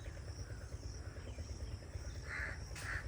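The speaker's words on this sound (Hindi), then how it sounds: "ये कौवे मेरे पीछे पड़े हुए हैं।" Two faint crow caws come near the end, over a low, steady outdoor hum with insect-like buzzing.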